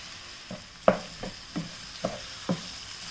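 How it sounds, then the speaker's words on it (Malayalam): Cooked, drained pasta stirred into frying masala in a pan, giving a series of soft scraping stirs with quiet sizzling, about six strokes in steady rhythm, close and alone without talk. "ഈ വേവിച്ച് വെച്ചിരിക്കുന്ന പാസ്ത ഉണ്ടല്ലോ അത് ഇതിലേക്ക് ഇട്ടിട്ട് ഇളക്കി കൊടുക്കണം"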